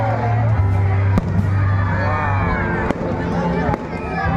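Fireworks burst at an eighth anniversary celebration with a night parade, sharp cracks popping every second or so over a loud, steady babble of a large crowd talking and cheering.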